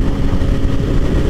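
Steady, loud engine note from an MV Agusta F3 800 motorcycle fitted with an HP Corse exhaust with dB killers, a continuous low rumbling drone held close up with no voices.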